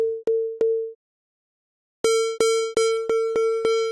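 A plain synthesized sine wave tone beeps in short, clean pulses, a few pure tones, a pause, then a faster run of brighter repeated beeps, loud and alone.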